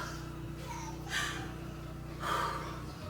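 During a prenatal session on breathing techniques for labor, a woman takes two slow, deep breaths, each a soft airy inhale or exhale, close and quiet over a faint hum.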